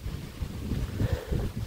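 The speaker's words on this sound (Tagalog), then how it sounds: "ganyan po ang hangin. May bugso siya, akala mo may bagyo." Gusty wind blows in the north at dawn, a dense low roar buffeting the microphone in uneven surges throughout the short stretch, with no voices.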